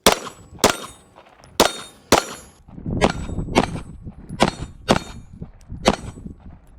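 A SAR9 SOCOM pistol fitted with a Strike Industries micro comp fires 115 grain PMC Bronze rounds, about nine sharp, loud shots in an uneven rhythm with metallic clanging, echoing outdoors and ending with a failure to feed on the last round.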